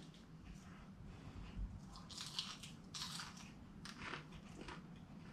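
Crunchy battered fried crappie is bitten and chewed close up, with faint, crisp crackling crunches and soft squishy chewing over a low background hum.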